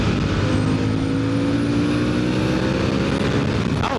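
A 2025 Harley-Davidson Sportster S motorcycle being ridden, its engine a steady, loud low rumble with wind rush throughout, the pitch rising slightly toward the end.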